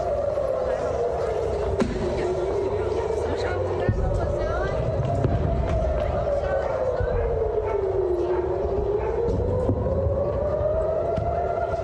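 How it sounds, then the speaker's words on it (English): Air raid sirens wailing across communities near the Gaza border in Israel, a steady rising and falling tone cycling slowly and continuously, heard from a distance under scattered background noise. "with air raid sirens going off across communities at the Gaza border"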